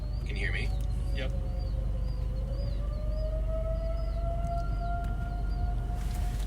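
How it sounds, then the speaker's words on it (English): Tornado sirens wailing from a distance during a supercell storm, a long rising and steady tone under strong wind noise, with voices talking over it. "we got tornado sirens coming out of Jackson Center"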